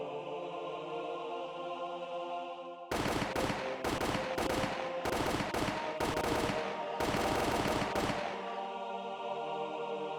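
Machine gun fire from the Higurashi When They Cry video game erupts in several loud rapid bursts over a steady droning background, separated by brief pauses.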